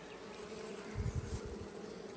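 Honeybees buzzing at an open beehive, a steady close drone that swells briefly mid-clip, with no talk.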